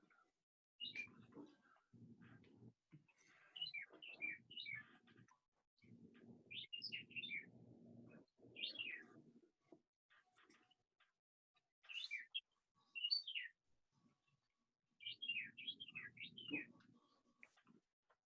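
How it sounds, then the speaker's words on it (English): Birds chirp and sing in short bright bursts, fairly faint and at a distance, outdoors behind an otherwise quiet indoor setting, with low murmuring sounds in between and no clear talk. "Very pleasant hearing the birds chirp in the background."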